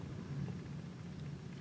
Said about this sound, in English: If you hear the rumbling, that's a nice spring storm going on outside.